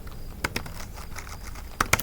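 Quick keystrokes tap on a computer keyboard while an SQL command is typed, a few crisp clicks in two small clusters against quiet room tone.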